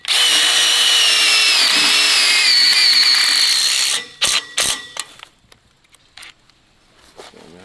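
A power drill drives screws into a greenhouse frame joint: a steady, loud whirring for about four seconds, then it stops, followed by a few sharp clicks and knocks before near silence.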